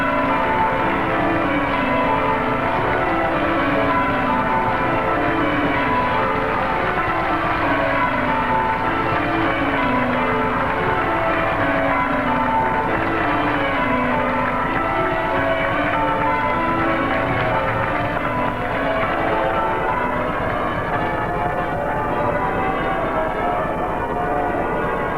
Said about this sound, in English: the bells rang out for the